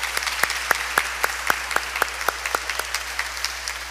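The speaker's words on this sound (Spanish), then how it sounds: "Le damos un fuerte aplauso" Congregation at a Catholic Sunday Mass in church gives a round of applause, heard as a sparse, steady series of distinct hand claps, roughly two per second, moderately faint against a quiet room hum.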